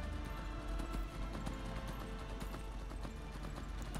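Horse hooves clip-clop in Skyrim, a steady trotting rhythm of hoofbeats over a dense game soundscape, with a faint voice in the mix.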